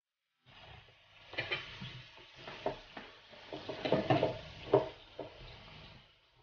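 Bacon frying on a raclette hot plate at a cheesy raclette dinner, a close, steady sizzle broken by repeated scraping and stirring clatters and a few sharper pan knocks, with no talking.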